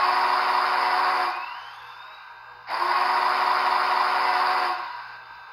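A Big Boy steam locomotive whistle produced by a SoundTraxx Tsunami 2 decoder sounds in two loud, sustained chime blasts separated by a short pause.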